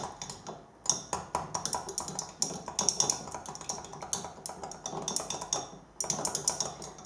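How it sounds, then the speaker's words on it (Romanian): A spoon keeps stirring a melting homemade body butter mixture in a bowl, making rapid, close, clicky metallic taps and scrapes in uneven bursts with a brief pause in between. "O să amestec un picuț pentru că trebuie să topească de tot."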